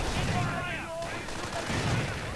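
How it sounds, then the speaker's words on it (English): Grenade explosions and rifle fire ring out in a real-time strategy battle game, a dense run of muffled blasts and shots with a commentator's voice over the top. "Grenades going off both sides."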